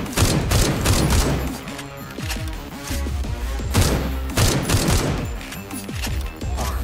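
Rapid gunfire from the video game SlavicPunk: Oldtimer, a dense, loud run of shots and thuds layered over game music, with bursts continuing throughout and no pause.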